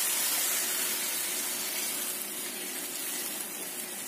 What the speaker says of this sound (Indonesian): Aku akan masukkan 500 ml air.